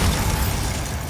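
A Bombarda spell detonates in Hogwarts Legacy, a loud, close burst of booming explosion noise that rumbles for about a second, with no talking.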